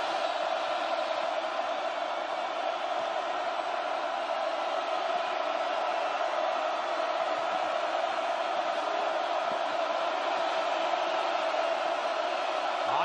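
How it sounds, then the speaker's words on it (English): A football stadium crowd at an Oregon home game against California in 2013 makes a steady, far-off roar that holds at an even level without big peaks. "Crowd starting to make their presence felt as Goff trying to throw underneath"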